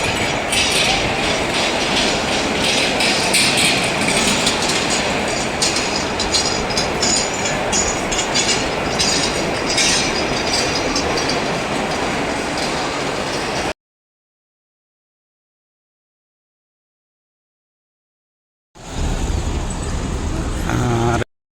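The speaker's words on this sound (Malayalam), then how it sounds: "ലോകമാന്യ തിലക റെയിൽവേ സ്റ്റേഷൻ്റെ ഒന്നാമത്തെ പ്ലാറ്റ്ഫോമിലേക്ക് എത്തി" Trains at a platform of Lokmanya Tilak railway station, with a loud, continuous rumble and clatter of rolling rail cars and some wheel squeal, broken by a few seconds of silence before the noise resumes.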